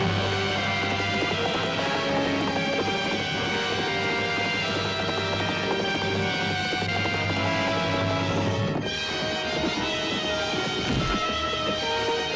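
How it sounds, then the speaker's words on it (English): A horse gallops at speed in a 1962 fantasy adventure film, with rapid, continuous rhythmic hoofbeats under a dense, loud music score throughout. "That horse is swift."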